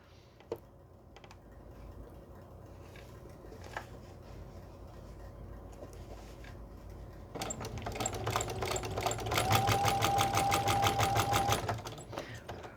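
A home sewing machine stitches an appliqué on a pillow up to a corner, with soft handling noises first and then a close, rapid run of stitches that stops abruptly near the end.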